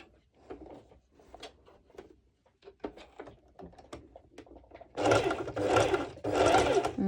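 Light handling and shuffling of fabric give way to a sewing machine running a zigzag stitch that attaches a strap to ruffled bikini bottoms, with three loud, close bursts of rapid whirring after a quiet start.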